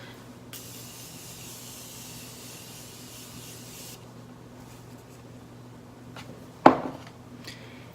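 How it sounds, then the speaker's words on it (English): Two short, quiet hissing sprays from a nearby Morphe setting spray bottle misted onto a face, a long one then a brief one, followed by a faint tap. "I'm going to set my face using the Morphe setting spray"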